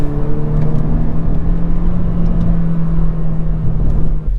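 A Honda Civic Si sport sedan drives through a series of S-bends, with a steady, loud engine drone holding at an even pitch throughout, no voices present.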